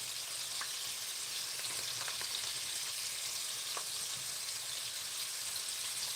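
Sauerkraut sizzles and crackles steadily in a hot skillet while being stirred, a dense frying hiss with occasional scraping taps, close and continuous.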